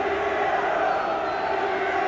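A football crowd at the Goldstone Ground, rain-soaked during Brighton v Liverpool, rises into a dense, continuous roar of cheering that stays loud and even throughout.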